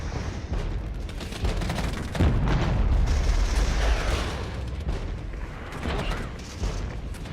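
A Tunguska air-defence vehicle firing direct support in the tactical battle game Regiments, its rapid bursts and booms layered over a continuous roar of battlefield noise, with the heaviest volley peaking midway.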